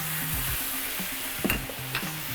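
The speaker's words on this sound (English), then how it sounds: "Then we're gonna add a 1/4 cup of hot water." Hot water poured into a preheated frying pan for cooking dumplings sets off a steady, hissing sizzle with a few sharp clinks of metal, while a low humming tone runs beneath it throughout.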